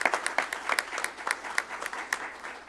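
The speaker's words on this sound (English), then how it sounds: "give a round of applause to the faculty and staff" A room at a Board of Regents meeting breaks into a round of applause, a brief, moderately loud patter of many hands clapping with an uneven rhythm.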